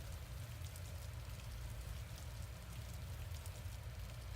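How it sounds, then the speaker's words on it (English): Steady rain falls in the visual novel Witch on the Holy Night, a soft, even hiss of drops with no change in rhythm and no voices. "His mind wandered as he listened to the sound of the raindrops."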